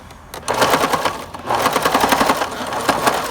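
A sewing machine stitches the pleats of a fabric face mask, running in two rapid, rhythmic bursts split by a short pause. The clatter is close and loud, and no one talks over it.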